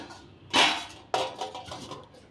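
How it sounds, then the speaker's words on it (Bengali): Metal puja utensils being taken down in a home, two clattering clanks of pots and vessels knocking together, followed by fainter rattling, fairly close. "আর মা এদিকে দেখো ঠাকুরের বাসনগুলো নামিয়ে দিচ্ছে"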